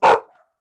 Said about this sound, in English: Do we need to come back to Catherine while she quiets her dog?